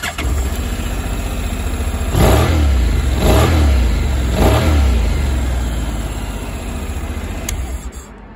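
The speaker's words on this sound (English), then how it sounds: "The bike sounds really great. I'll just start it up for you." A Honda NC750S motorcycle engine starts and idles, then gets three sharp throttle blips in quick succession before settling back to a steady idle, close and loud.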